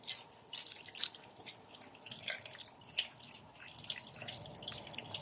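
Water trickles and drips steadily into a cooking pot of pork leg, with small splashes and a soft, uneven pour throughout.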